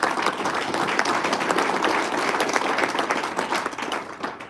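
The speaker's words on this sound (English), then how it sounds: "So let's give Ruby's Inn a round of applause." A room of attendees at a county Republican convention breaks into brief applause, dense clapping that holds steady and then fades out at the end.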